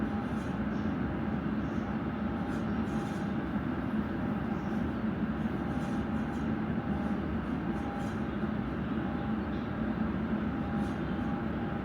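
A London Underground Piccadilly line train held at a red signal gives off a steady, loud rumble and hum from inside the carriage, continuous throughout with no talking.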